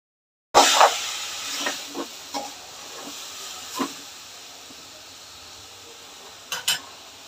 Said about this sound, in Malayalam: അപ്പം ഞാൻ ഇച്ചിരി മീൻ വെട്ടിയത് മസാല പുരട്ടി വെച്ചിട്ടുണ്ടായിരുന്നു, അതൊന്ന് വറക്കാനിട്ടിട്ടുണ്ട്.